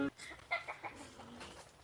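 A few short, breathy clucks from a chicken, close by and fairly soft, spaced irregularly over a low background hum.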